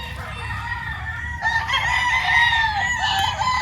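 Gray and white gamefowl roosters in a raising area in Lipa, Batangas, crow loudly and close by, with overlapping calls and a few clucks from the flock.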